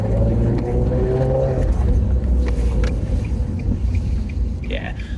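A car on rattle-can refurbished wheels drives along at about 30 mph, a steady low road rumble and engine drone inside the cabin, with someone talking over it.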